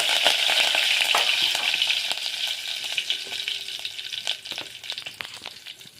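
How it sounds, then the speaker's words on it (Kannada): Cumin and mustard seeds crackle and sizzle in hot oil in a pan, a steady loud frying hiss with scattered sharp pops, easing slightly toward the end, no voices. "ಇದಕ್ಕೆ ಇವಾಗ ಜೀರಿಗೆ ಸಾಸಿವೆ ಹಾಕ್ಲತ್ತೀನಿ ರೀ."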